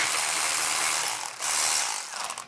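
A ratchet loosens the 12 mm exhaust flange nuts on a Honda Grom with a rapid, close clicking that runs nearly continuously, dips briefly, then tapers off into a few final clicks.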